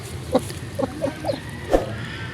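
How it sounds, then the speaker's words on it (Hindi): A broody hen gives soft, low clucks, a few short calls spaced irregularly and heard close by in a quiet setting. "आपस में खुद ही बोलती रहेगी, कुक कुक करती रहेगी"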